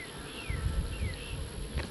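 Honey bees buzz around an opened nuc hive, a faint, steady droning hum with individual bees whining past close by now and then.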